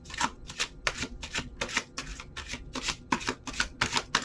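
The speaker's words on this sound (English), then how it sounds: "I feel the need to shuffle" Oracle cards being shuffled by hand in a steady run of about ten quick riffling bursts, close and crisp, with no voices.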